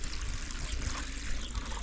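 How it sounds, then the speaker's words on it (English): Water pours and trickles steadily from a watering can onto potted plants in a back garden, a continuous close splashing wash lasting a couple of seconds with no talking. "So let's water it."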